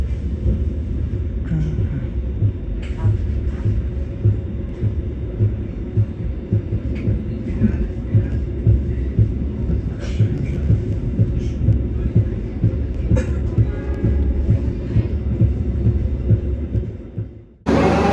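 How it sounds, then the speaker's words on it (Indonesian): A Supas commuter train pulls into Bangil station in Indonesia at night, a steady rumbling, throbbing roll of wheels and carriages that holds for most of the time before cutting off abruptly near the end. "Saat ini perjalanan kereta api komuter lain Supas telah tiba di stasiun Bangil."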